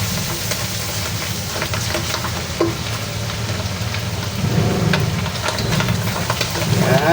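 Chicken with mushroom, garlic and onion frying and being stirred in a pan, giving a steady close sizzle with irregular scraping and clacking of the utensil.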